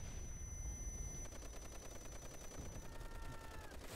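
Rapid, continuous gunfire in Call of Duty World at War, steady bursts of machine gun fire at moderate volume filling the whole stretch, with game tones ringing faintly underneath.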